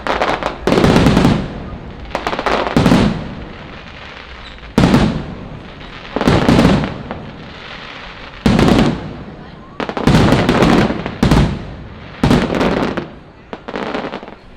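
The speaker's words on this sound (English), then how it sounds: "this looks like probably the best place to check out the fireworks" Repeated loud fireworks bursts at Disneyland boom and crackle at irregular intervals, each followed by a sizzling tail, with faint crowd chatter underneath.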